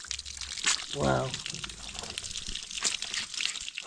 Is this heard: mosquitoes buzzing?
no